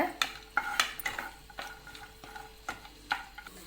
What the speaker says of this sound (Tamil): முந்திரி நல்லா பொன்னிறமாக வர்ற வரைக்கும் வறுத்துக்கோங்க